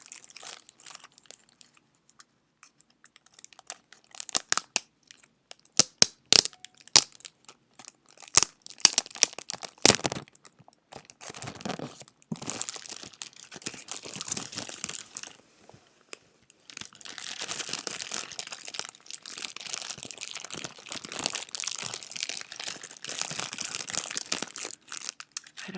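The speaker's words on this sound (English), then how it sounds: "So let's take off the plastic part here." Plastic wrap being peeled off a new iPad case, close to a small microphone: scattered sharp crinkles and crackles at first, then denser continuous crinkling and rustling, quiet and intimate with no talking.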